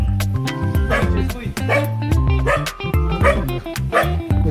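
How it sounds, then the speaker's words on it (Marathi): A dog on a village road barks repeatedly at close range in rapid bursts, its barks mixed with people talking nearby. "कुत्रा बी बुकायला लागला आम्हाला."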